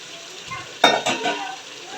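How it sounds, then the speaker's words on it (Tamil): Tomatoes sautéing with ground paste in a pan for chicken biryani, a sharp burst of sizzling and spatula scraping as they go in, then steady frying crackle underneath. "தக்காளி போட்டு நல்லா வதக்குங்க"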